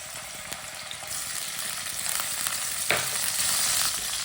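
Finely chopped green onion fries in half a cup of oil in a pan. A steady, close sizzle carries throughout, with stirring scrapes and a sharper flare of hissing partway through.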